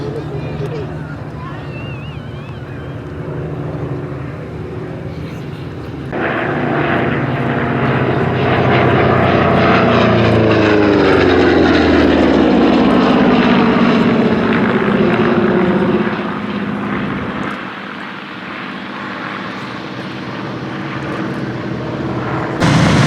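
A droning Pratt & Whitney Double Wasp piston aircraft engine roars steadily at an airshow, swelling louder in the middle as if passing close, with a low rumbling growl and some wind noise.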